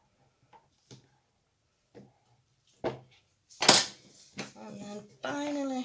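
Shea butter cold process soap batter mixed by hand in a container, with scattered light knocks and scrapes against the sides that end in a louder, steadier burst of sound.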